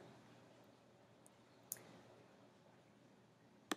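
Computer mouse clicking on a Facebook page: a few crisp, faint clicks spaced apart, including a tiny tick early and two sharper clicks, over a quiet room hiss.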